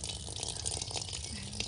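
Water runs steadily from a tap into a container outdoors in a rural hillside setting, a constant close splashing rush with a faint low hum underneath and no talk.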